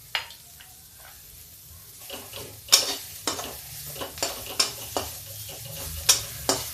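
Chopped bitter gourd and onion stir-fried in a pan, a low sizzle beneath repeated scraping stirs of a spatula that tick in a steady rhythm.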